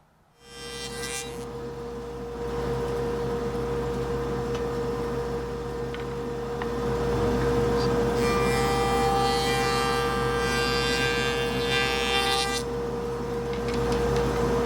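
Table saw cutting the wooden sides of a jewelry box with a miter gauge: a continuous close motor whine with the rasp of the blade biting through wood, building and holding steady across the cut.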